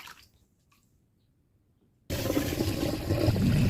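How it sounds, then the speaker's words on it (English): After near silence, warm water suddenly gushes loudly over a linocut ink roller coated in water-based ink, a close, continuous splashing rinse that holds steady to the end. "I'm using warm water to clean the ink roller until it's smooth again"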